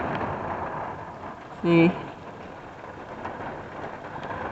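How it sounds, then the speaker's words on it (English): Rain blows in through an open van door on a breezy day, a steady wet patter with a short louder splash or gust in the middle, and a person speaks briefly over it. "So I'm trying not to let too much rain in."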